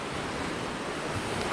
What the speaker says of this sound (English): Sea is much calmer today than it has been in recent weeks.